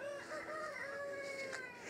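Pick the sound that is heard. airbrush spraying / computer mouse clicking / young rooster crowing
young rooster crowing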